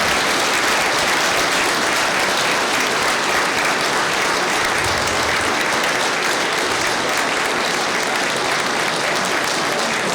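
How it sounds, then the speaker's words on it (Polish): Loud, sustained applause from a crowd at a New Year's gathering of a rural people's party on Epiphany, dense steady clapping filling the whole stretch with no break. "Wielka brawa."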